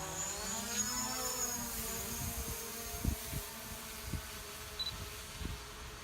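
A drone lifts off beside the Pere Marquette River, its motors rising into a whining hum with shifting pitch, joined by a few sharp ticks and bumps nearby.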